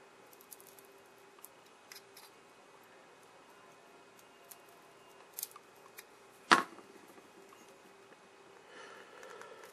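A plastic-cased paper foil capacitor from a Capehart 325 radio being pried open: faint scrapes and ticks, then one sharp crack of the casing giving way, close and alone in a quiet room.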